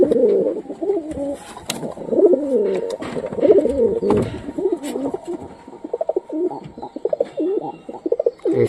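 Domestic pigeons, including a male bird, coo steadily in repeated low, throaty rolling calls that sound close and overlapping, with occasional faint chirps and light rustling in between.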